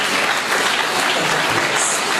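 An audience applauding for a Commissioner at a school event, a dense continuous wash of many hands clapping at once, loud and steady throughout.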